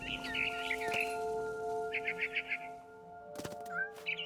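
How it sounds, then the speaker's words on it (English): Barn swallow chirping in the game What Remains of Edith Finch: short clusters of bright twittering chirps, moderately close, over a steady tonal game soundtrack hum. "Then I heard chirping outside my window. It was a barn swallow going back to her nest."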